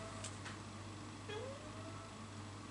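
A male cat meows once, a short rising call, faint against a steady background hum indoors, with a brief higher chirp just before.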